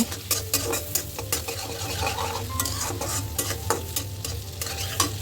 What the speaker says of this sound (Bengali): পেঁয়াজ কাঁচামরিচ দিয়ে কিছুক্ষণ নেড়ে চেড়ে নেব।